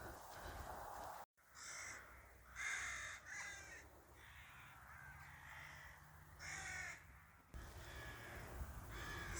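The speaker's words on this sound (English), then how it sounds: "So many crows." Several crows caw near a footpath crossing farmland, harsh calls coming in repeated bursts, some close and loud, over steady outdoor background noise.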